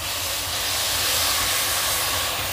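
Ground tomatoes sizzle loudly in a pan of browned onions, a steady, close, broad hiss that holds without a break, with no voices.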